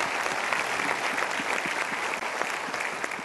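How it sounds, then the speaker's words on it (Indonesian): An audience claps steadily and densely throughout, a sustained round of applause filling the room. "Kita berikan tepuk tangan dulu."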